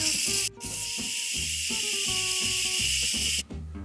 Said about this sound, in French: maintenant je vais faire un QR pour évacuer la vapeur